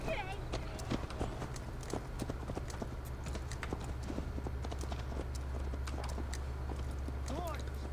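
Steady clip-clop of horse hooves in the video game Assassin's Creed Valhalla, continuous and fairly close, running under ambient game sound with speech-like voices mixed in.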